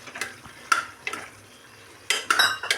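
Potatoes and chenna stirred in a pan while frying on a home kitchen stove: sharp metallic scrapes and clinks of a spoon against the pan, in irregular bursts over a faint sizzle.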